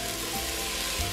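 Chopped onion, garlic and carrot frying in olive oil in a soup pot give off a steady, close sizzling hiss for about a second.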